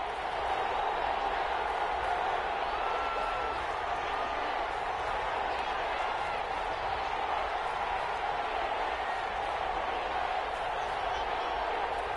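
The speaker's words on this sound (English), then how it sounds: "Some applause for the defense there." Steady stadium crowd noise and applause in a PS4 American football game, a broad, continuous roar held for several seconds with a commentator's voice faintly underneath.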